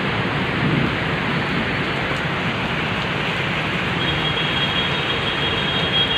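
Steady, dense rain pours down continuously, a broad hissing wash with no pauses and a faint high tone creeping in near the end.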